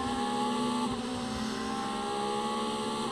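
A DTM race car under hard acceleration in qualifying at Misano gives a continuous, high-pitched engine roar that stays steady and fairly loud, with no voices over it.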